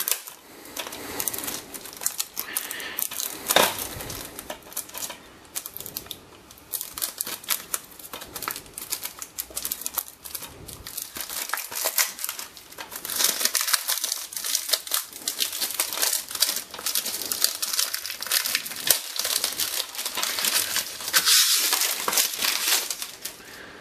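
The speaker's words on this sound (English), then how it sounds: "So I'm going to go ahead and open this game up. It's still in its original shrink wrap." Shrink wrap torn and crinkled off a boxed PC game expansion for Euro Truck Simulator 2, close and crisp with irregular bursts of crackling and rustling plastic, no voices.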